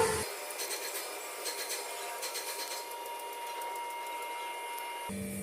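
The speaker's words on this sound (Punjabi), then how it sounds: "ਹੁਣ ਆਪਾਂ ਇੱਥੋਂ ਕਟਾਈ ਕਰਨੀ ਸ਼ੁਰੂ ਕਰਾਂਗੇ ਉੱਪਰਲੀ ਸਾਈਡ ਤੋਂ" Scissors cut through fabric for a gents' pants pattern, a soft rasping snip-and-slide of blades repeated in short bursts over steady room hiss, close and fairly quiet.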